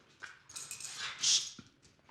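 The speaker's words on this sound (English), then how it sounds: "now the dog is under stress" A stressed two-legged rescue dog whimpers softly and close by, with thin high whines rising into one sharper cry midway before trailing off, faint and without talk.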